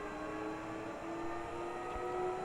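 An airplane takes off in the Roblox game Cabin Crew Simulator, a quiet, steady droning hum with a sustained engine tone that holds evenly throughout, with no voices.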